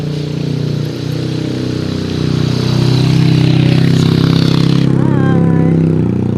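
Motorbike engine running close by, a loud steady low rumble that swells slightly partway through, with a voice and some chatter heard over it.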